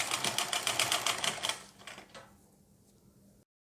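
A sewing machine runs in a quick rapid chatter for about a second and a half, stitching a folded hook strip on a lined blouse, then slows and stops, close and clear.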